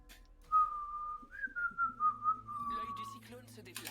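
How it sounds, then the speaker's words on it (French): A person whistles one sustained melodic line during a Supervive game stream, with a wavering pitch and small bends that last about three seconds. Faint game sounds sit underneath, and the whistle stays close and clear. "arrête de siffler"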